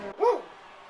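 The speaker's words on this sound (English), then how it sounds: "That is my dog barking, I apologize." A single short bark from a pet dog in a home, close and fairly loud, standing alone with nothing else around it.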